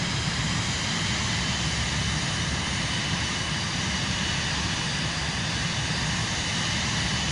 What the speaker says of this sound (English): Let's cut the throttle back.